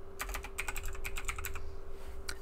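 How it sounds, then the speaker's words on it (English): Computer keyboard keys click in a quick irregular run of taps, close and fairly quiet over a steady low hum, with no speech. "I'm just pressing F8 on my keyboard"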